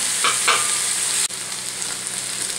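Tofu frying and sizzling in a hot wok with a splash of rice wine, a steady close hiss running throughout with a couple of brief stirring scrapes near the start and a short sharp tap midway.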